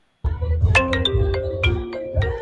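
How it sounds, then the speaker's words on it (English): An incoming-call phone ringtone plays a short, bright melodic tune with a bass beat, close and clear, and no talk over it. "Friend, who's calling my phone?"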